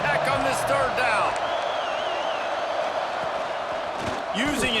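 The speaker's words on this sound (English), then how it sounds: "Guns up, and so is the noise. The crowd electric, trying to help Tech on this third down." Stadium crowd roar from College Football 26, a sustained loud wash of noise during a Texas Tech third down, with bursts of cheering and a commentator talking over it.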